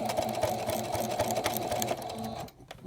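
A sewing machine stitches binding onto a pinwheel quilt, a steady close mechanical whirr with rapid needle clatter that runs evenly before slowing and stopping near the end.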